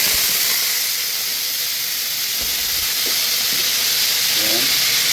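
Beef for caldereta sautéing in a pan gives a steady loud hiss and sizzle throughout, with faint scraping of a utensil and a voice briefly in the background.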